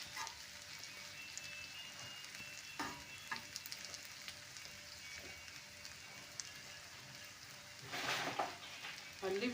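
Omena (silver cyprinid, dagaa) cooks in a pan with onions, giving a soft, steady sizzle with a few faint pops and clatters from stirring. A louder spatter of frying comes near the end.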